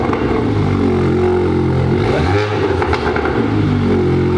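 VW Mk8 Golf R engine at cold start, a loud, steady, throaty high idle droning close by, with a slight dip and flutter in the middle before settling back.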